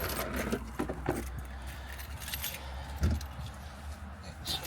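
Keys jangle inside a motorhome cab in several short metallic bursts, one louder rattle near the end, over a low steady background hum.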